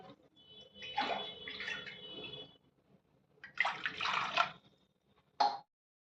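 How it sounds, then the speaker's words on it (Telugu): Water gushes into a metal pan on the stove in two separate pours for cooking rice rava, then a short final splash, with quiet pauses between. "ఒక గ్లాసు బియ్యం రవ్వకి 2 గ్లాసులు నీళ్ళు పోయాలి."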